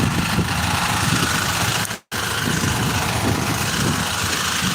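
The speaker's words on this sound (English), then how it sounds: "I'm in this big ass truck." A big truck engine idles with a steady, close, low rumble that cuts out for a moment midway and then carries on unchanged.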